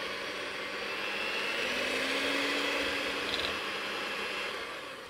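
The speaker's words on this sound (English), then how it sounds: "So I'm going to give this a good mix now using my hand mixer" A hand mixer whirs steadily while blending apple pudding batter, its high motor whine holding constant and close with a slight rise in pitch, with no talking.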